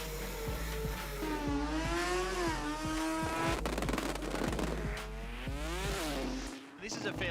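Drag race cars launch down the strip at an Adelaide drag racing event, one leaving with its wheels in the air, engines screaming and rising through gears. A commentator talks over the continuous, loud roar.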